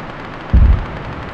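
A single short burst of gunfire from a firearm in the military shooter Arma 3, loud and close, lasting under a quarter second over quiet background hiss.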